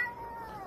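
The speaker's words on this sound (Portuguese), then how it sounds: "o gato brigando com o cachorro e o dono reclamando." A cat fighting with a dog lets out a short, drawn-out yowl that falls in pitch, fairly loud, with no one talking over it.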